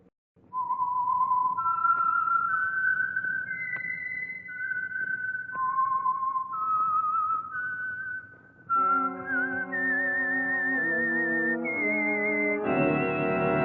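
A whistled theme tune identifies the Signal Oil radio program The Whistler. A single clear whistler carries a slow, wavering melody of sustained notes, with a tonal accompaniment joining under the final phrases.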